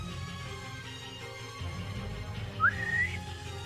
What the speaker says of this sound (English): you hear a strange whistling sound through the air